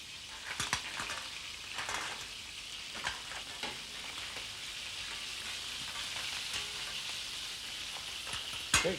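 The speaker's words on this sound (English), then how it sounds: "we put in some clams" Clams tipped into a hot pan for a Galician stew sizzle and crackle steadily, with a few sharper clinks and stirring scrapes at the start and end, close and alone without talk.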